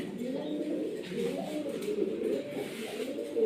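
Running pigeons cooing in a farm loft, a steady low murmur of overlapping coos that continues throughout, close and moderately loud with no talking.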